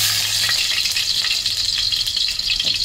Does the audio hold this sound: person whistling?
no